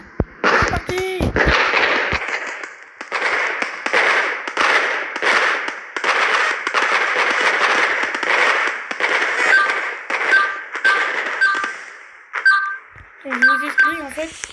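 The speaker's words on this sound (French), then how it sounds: "chaque 15 minutes, ils avaient des feux d'artifice." Fireworks go off in the Roblox game Brookhaven at a summer carnival event, a dense run of loud crackling bursts with beeping game tones near the end.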